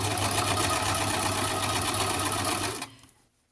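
A sewing machine stitches in a fast, steady, loud whir with a rhythmic mechanical chatter, running continuously close by before cutting off and fading to near silence.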